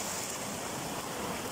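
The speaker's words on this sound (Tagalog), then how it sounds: "Yan, yung ilog, ito yun." A river rushes steadily on a rural path used to gather bamboo, a dense, even wash of flowing water heard up close with no pauses and no voices.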